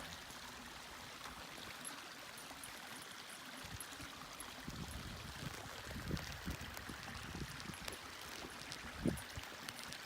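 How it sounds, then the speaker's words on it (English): Water in Mill Creek flows along a mountain creek bed near Red Fir Road, a low steady trickling rush with a few slightly louder splashes and gurgles, continuous and outdoors. "the water is still flowing down Mill Creek a little bit"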